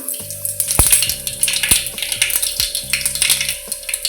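Mustard seeds and cumin crackle and sizzle in hot oil in a heated kadai over a gas flame, with sharp popping spatters over a steady frying hiss for prawn curry, close and fairly loud with no talking.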